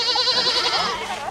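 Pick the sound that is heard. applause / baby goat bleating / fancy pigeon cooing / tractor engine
baby goat bleating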